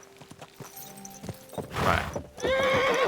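In Kingdom Come: Deliverance II, a horse's hooves clop a few times, then the horse gives a loud, rising neigh up close. Someone speaks briefly at the start.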